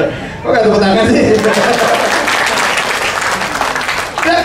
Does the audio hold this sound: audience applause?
yes